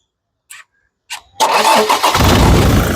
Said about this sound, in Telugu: ఈ కారు సింగిల్ సెల్ఫ్ లో స్టార్ట్ అవుతుందా లేదా అన్న చూపిస్తున్నాను